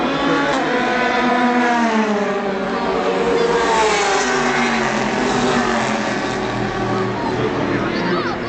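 Race cars at the 24 Hours of Le Mans pull away on the restart near the Arnage corner, engines rising and falling in a loud, continuous roar of passing and accelerating cars.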